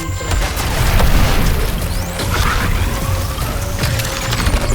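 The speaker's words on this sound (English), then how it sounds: "It's firing the beam." Brainiac boss firing its beam weapon in the Suicide Squad video game, a sustained loud rumbling roar with booming, crashing mechanical textures that surges and holds throughout.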